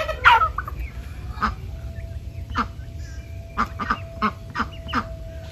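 Several homestead meat turkeys gobble in short, bubbly bursts, one loud call near the start followed by scattered quieter gobbles and clucks close by.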